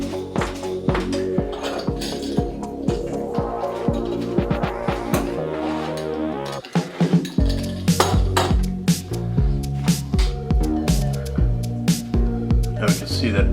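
Knife cutting through a freshly baked pizza made in a Toshiba countertop cooking appliance, giving repeated close clinks and scrapes of metal on the pan, with someone talking over much of it.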